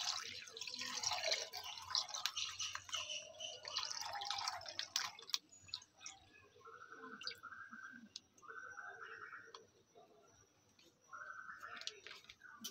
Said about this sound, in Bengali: কড়াইতেই দিয়ে দিচ্ছি দুধটা।